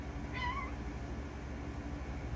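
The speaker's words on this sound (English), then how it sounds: "Literally just bit Kitty on the neck for no reason" A house cat lets out a short rising yowl after being bitten on the neck by another cat indoors, a single brief cry over low background hum, fairly faint.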